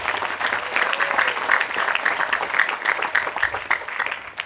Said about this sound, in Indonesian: Tepuk tangan untuk Raudhatul Firdaus